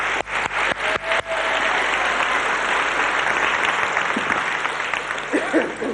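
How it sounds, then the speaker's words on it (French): A television studio audience applauds on a 1983 French variety show, a few sharp separate claps at the start swelling into sustained, dense applause that thins slightly toward the end. "Nous pouvons applaudir en tout cas Madame Chopy."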